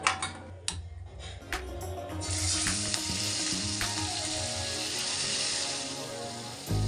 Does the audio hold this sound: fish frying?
yes